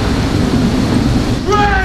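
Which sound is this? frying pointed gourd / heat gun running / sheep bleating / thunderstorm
thunderstorm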